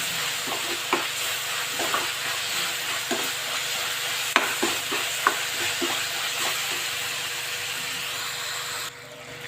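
Grated coconut frying in a pan for Bombay sagu, a continuous close sizzle with scattered clicks of a spatula stirring, no voices.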